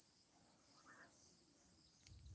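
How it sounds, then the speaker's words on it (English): Outdoors, a steady high chirring of insects runs unbroken and fairly faint, with only a hint of a distant bird call. "Bugs screaming in the background, birds, cattos and dogs,"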